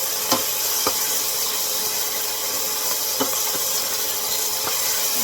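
A handful of coriander goes into a hot tempering of oil with asafoetida and pickle spice for Gujarati tuvar dal, giving a steady, dense sizzle with a few faint clicks of stirring.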